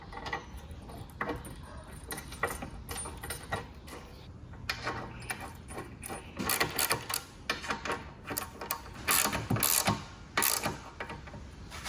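Bolts are done up loosely on a Scott Bonnar Supercut model 17 reel mower while the reel and sole plate are fitted, giving a steady run of close metallic ratcheting clicks and small knocks with no talk.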